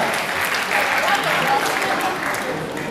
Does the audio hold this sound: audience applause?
yes